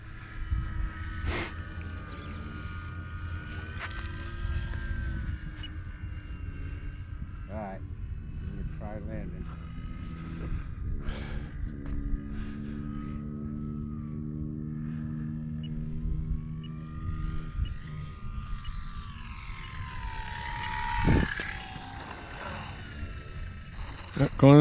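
Dynam C-188 Air Tractor RC airplane coming in fast to land, its electric motor droning steadily and rising near the end, with people talking over it outdoors at the field.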